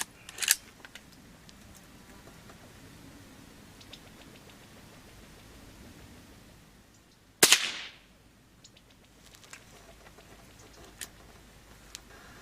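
A single sharp shot from a Henry Silver Eagle .22 carbine fired at targets outdoors, a brief crack standing out against quiet wind and faint background noise, with no talking.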